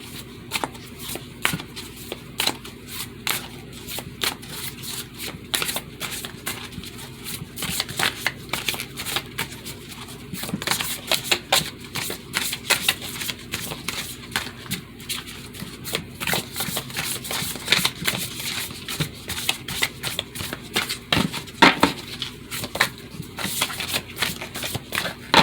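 Someone shuffles a Crystal Spirits Oracle card deck close by, making a long run of crisp riffling flutters and soft slaps in irregular bursts with brief pauses between them.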